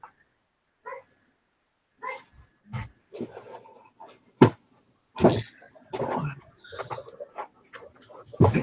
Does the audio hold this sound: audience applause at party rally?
no